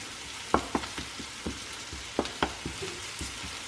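Onion caramelizing in butter for a kimchi cheese omelette with stir-fried rice gives a soft, steady sizzle, broken by sharp scraping and stirring taps from a spatula in the pan, close and alone with no talk.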